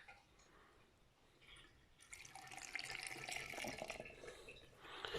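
A glass of water poured into a cooking pot, a steady close splashing and trickling that swells midway and continues to the end, with no talking.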